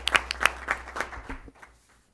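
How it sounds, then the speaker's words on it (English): An audience at a PTA meeting claps for award recipients in a brief, close patter of hand claps that thins out and fades within two seconds. "So let's give applause for all of those great accomplishments."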